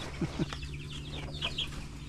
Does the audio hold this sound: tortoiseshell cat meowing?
no